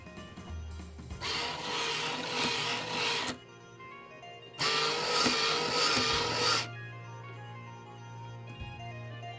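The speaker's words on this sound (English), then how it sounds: "Anchor comes up." The motorized anchor winch on a 1/25 scale model of the NOAA ship Malcolm Baldrige R-103 whirs in two close, steady bursts of roughly two seconds each, with a quieter electrical hum between them.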